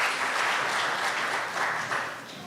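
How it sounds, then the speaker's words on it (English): Congregation at a church service applauding its volunteers, a steady wash of hand claps holding evenly for the whole stretch at moderate level in a room. "Let's give them a warm of applause."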